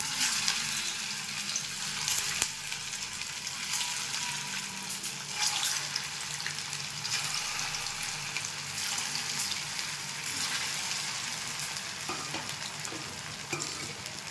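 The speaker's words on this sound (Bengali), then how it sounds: "এবার ভেজে নেব। পরিমাণ মতো রিফাইন তেল দিয়ে দিচ্ছি। তেলটা গরম হয়ে গেছে, ছেড়ে দিচ্ছি।" Shaped semolina and raw potato snacks frying in hot refined oil, a steady dense sizzle that stays loud and continuous throughout, with occasional faint clinks.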